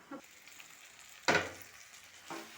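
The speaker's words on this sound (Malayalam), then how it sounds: "നമുക്കൊന്ന് ഇളക്കി കൊടുക്കാം" Ivy gourd and onion cook in a pan and are stirred, giving three short bursts of scraping and sizzle over a quiet, low hiss.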